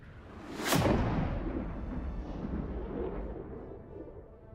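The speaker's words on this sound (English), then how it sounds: "Oh, using my plasma grenade launcher." A plasma grenade launcher fires in Helldivers 2, a sharp whooshing blast followed by a rumbling explosion that trails off into a lingering low roar, loud and close with no voices.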